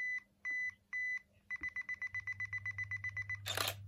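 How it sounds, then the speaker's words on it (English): A Nikon D3100 DSLR's self-timer beeps close by, first in three slow beeps and then in a fast, steady run of short beeps, ending in a brief burst as the shutter fires. "So there you go, it starts flashing and beeping. And after 10 seconds, it will take the picture."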